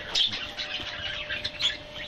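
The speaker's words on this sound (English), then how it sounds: "there's a budgie sitting in there" A budgie chirps inside a bird house where she has been nesting with her babies, giving a few short, high, scratchy chirps close by, with no voices.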